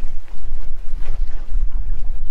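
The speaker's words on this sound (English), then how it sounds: "But it is windy as all get out." Strong wind buffets the microphone in heavy low rumbling gusts, loud and continuous with brief dips, with no voices.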